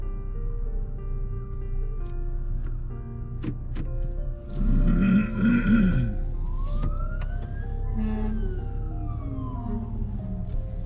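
A police car siren wails, rising and falling in the distance over the steady engine hum of a Honda Accord, with a brief louder rumble partway through.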